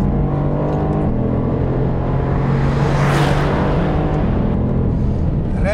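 A Mercedes-AMG GT R Pro from 2019 accelerating down a wet Grand Prix circuit straight, its engine note climbing loud and close, then swelling into a whooshing pass at the middle before settling.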